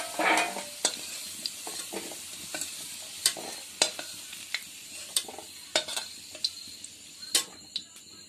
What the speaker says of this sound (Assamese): আলু ভাজি হৈ গল 5 মিনিট ভাজিলো